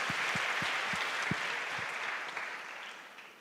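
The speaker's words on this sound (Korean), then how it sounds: "우리 하나님께 감사의 박수 한번 드리겠습니다" Church congregation applauding in thanks at a Christian youth conference, a steady wash of clapping that holds loud and then slowly fades over a few seconds.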